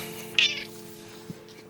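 A single short meow from a cat nearby, followed by a faint low hum and a soft second sound.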